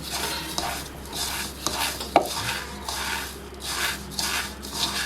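Vermicelli being stirred with homemade butter in a pan, a steady rhythmic scraping and rubbing of a spoon against the pan, close and fairly quiet, with one sharper knock midway.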